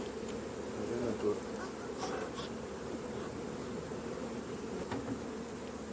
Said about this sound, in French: on secoue un cadre d'abeille dedans parce que ça a volé